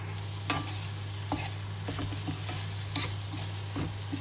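Beetroot pulao is stirred and fried on a tava, with a steady sizzle under repeated spatula scrapes and clinks, close and without talk.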